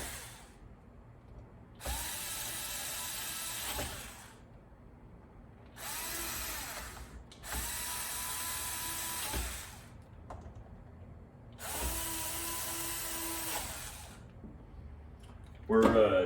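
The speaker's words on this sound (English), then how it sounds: "Tighten down the screws." A power drill drives screws down during equipment maintenance, in four separate bursts of a couple of seconds each, with quiet gaps between them and a brief clatter at the end.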